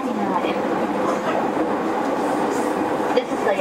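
An E231 series Yamanote Line commuter train runs between stations on the inner loop, its steady rumble and wheel noise heard from inside the car with faint clicks from the rails.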